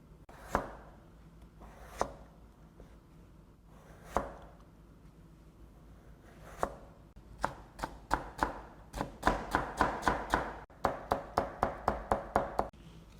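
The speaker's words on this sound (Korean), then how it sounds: "반을 이렇게 잘라서 이렇게 눕혀놓고 썰으시면 아주 편하게 썰으실 수가 있어요" A knife chops vegetables on a cutting board while making kimchi, first a few spaced single strokes, then rapid, crisp rhythmic chopping building up close and clear.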